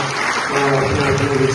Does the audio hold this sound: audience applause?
yes